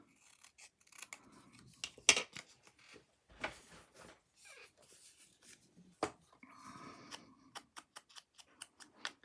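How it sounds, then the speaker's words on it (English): Scissors snip and rasp through paper, trimming a piece for a shabby chic journal, in quiet, irregular close-up cuts with soft handling rustles in between. "So I'm just going to cut this down a little bit."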